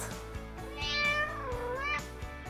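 A cat gives a couple of drawn-out meows, close and clear, with a rising and falling pitch.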